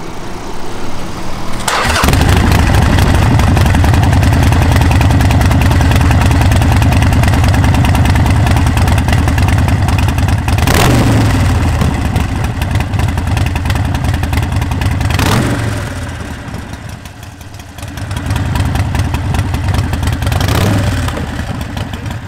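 An American car's engine cranks and catches, then settles into a loud, deep, rumbling idle close by, with several sharp throttle blips and one brief dip before the rumble returns.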